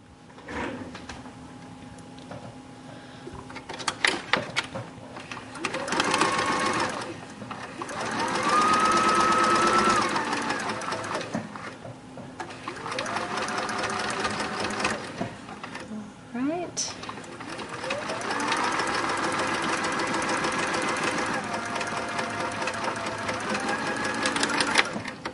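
Sewing machine stitching together quilt star block pieces, its motor whirring in bursts of varying length across the span, close and fairly loud, with a voice talking over parts of it.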